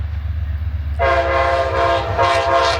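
An Amtrak train rushes past near a swamp park, its horn blaring loud and close in long sustained blasts over the rumble of the moving cars.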